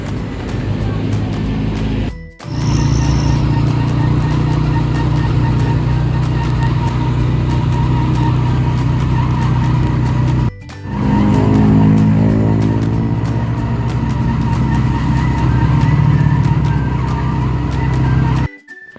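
A motorcycle is ridden along a road, its engine droning loud and steady with wind noise, broken by two brief dropouts, and no talking is heard.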